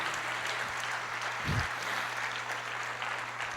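A congregation claps during a Portuguese-language church service, a continuous mid-level wash of many hands with a low steady hum underneath and a brief thump partway through.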